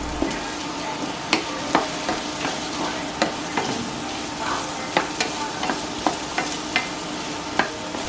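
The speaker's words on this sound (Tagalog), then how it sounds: "add garlic and saute until fragrant" Garlic and carrots sautéing in a pan while making osso buco, a bright continuous sizzle broken by frequent crisp clicks and scrapes of stirring, close and without talk.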